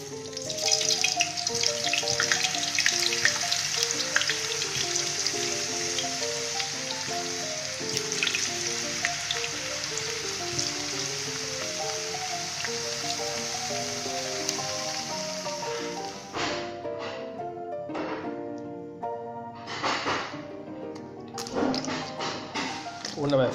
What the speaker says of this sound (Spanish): Primero se fríen las patatas.